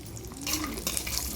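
Cashews fry in ghee in a pan over a stovetop flame, a brief, close, steady sizzle with soft scraping stir sounds.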